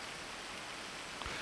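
Steady rain falling in a video game, a soft continuous hiss of drops with no break, fairly quiet and alone.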